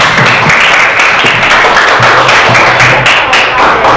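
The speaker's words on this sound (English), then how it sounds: "Give applause for Aji." Pupils in an English class applaud a classmate, a short burst of brisk, uneven clapping close by with scattered individual claps, fairly loud.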